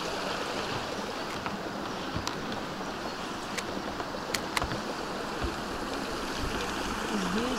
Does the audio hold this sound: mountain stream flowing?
yes